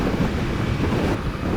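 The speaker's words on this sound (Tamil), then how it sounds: "இங்கேயே காற்று ஹெவியாக அடிக்குதுங்க" Strong wind buffets the microphone during a highway ride at cruising speed, a loud continuous low roar and rumble with no let-up and no talking.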